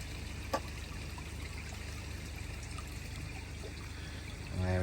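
A pet fish slipped back into a garden pond, a soft continuous trickle and pour of water running steadily, with a brief splash near the start and a louder rush at the end.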